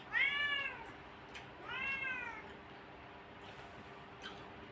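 A cat meows twice in close succession near the start, two clear rising-falling calls over a faint background hum, followed by quiet with a few small clicks.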